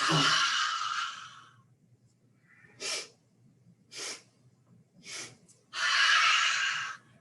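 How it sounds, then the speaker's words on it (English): Yoga breathing exercise: a long exhale, then three short, sharp sniffs through the nose, evenly spaced, followed by another long breath out, close and clear. "Gonna inhale through the nose with a big sniff, big sniff, big sniff, exhale."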